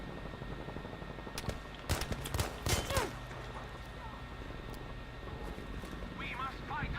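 Sniper rifle shots ring out in the Battlefield 5 video game, a few sharp cracks clustered together, followed by fainter game sounds and a voice speaking.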